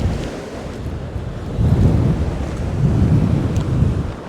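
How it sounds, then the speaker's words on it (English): Strong wind of about 25 miles an hour gusts on a seashore during a bass and sole fishing trip, a loud rushing roar buffeting the microphone and swelling in two surges, with surf beneath and no talk. "it's blowing about a 25 mile an hour wind today, gusting up above that"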